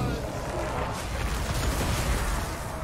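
Artillery fire in the strategy game Total War: Warhammer II, dwarf guns booming into enemy units as a dense, rumbling barrage of blasts and battle noise running steadily throughout.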